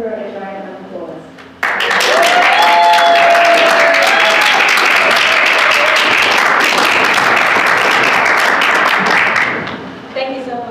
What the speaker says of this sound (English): let's give her a giant round of applause